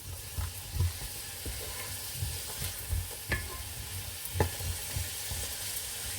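Onions sizzling in hot oil while frying for a duck curry, a steady close crackle with periodic scrapes and stirring knocks, alone with no talking.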